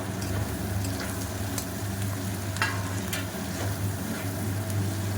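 Onions and cubed capsicum fry for chili chicken, a steady close sizzle with soft stirring scrapes, continuous and even with no talking.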